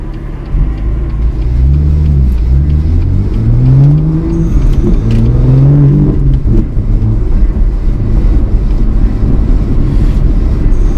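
A car on Eibach Pro lowering springs with 10mm wheel spacers drives along a road with speed bumps. The engine hums and rises and falls through revs over a steady, loud road rumble, with no talking.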